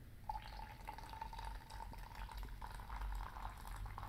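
Water from a kettle pours steadily into a coffee brewer, a quiet continuous trickle and splash that holds for several seconds with no talking.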